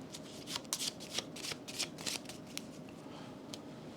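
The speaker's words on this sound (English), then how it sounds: "Shuffle this." A deck of game cards is shuffled up close during a card game, a run of quick, crisp riffling bursts and soft slaps at irregular intervals, fairly quiet and with no talking.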